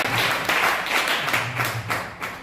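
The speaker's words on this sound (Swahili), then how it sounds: "Yesu makofi mazuri" A church congregation applauds together, producing several close bursts of dense clapping that rise and fall over a couple of seconds.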